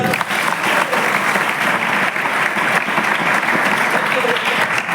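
Steady, loud applause from a crowd at a gathering, a thick continuous wash of many hands clapping without pause.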